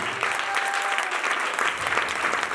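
Loud, sustained audience applause fills a church sermon hall, a dense steady clatter of many hands with no voices over it.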